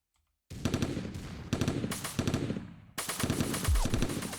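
Rapid automatic gunfire from a video game weapon with three-round burst fire on a Nuketown-style map, loud and close, coming in repeated clusters of quick shots after a moment of silence.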